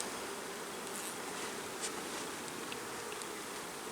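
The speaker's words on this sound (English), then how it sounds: "Good number of bees." Honey bees hum steadily inside an opened hive during a spring inspection, a soft, continuous buzzing drone with a few individual bees passing close, and no talking.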